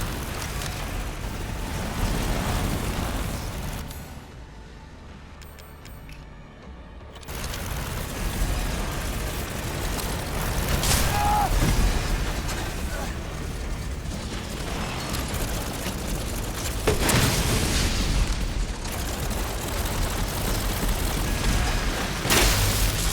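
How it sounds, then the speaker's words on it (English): A hulking boss smashing through walls in Resident Evil Village on PS5: heavy crashing booms and crumbling debris over a dense, rumbling game mix, with louder impacts toward the middle and end. "he's breaking the walls"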